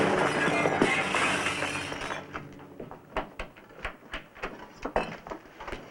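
A shop window is broken, a loud sustained crash of shattering glass followed by scattered tinkling and clinking shards falling and settling.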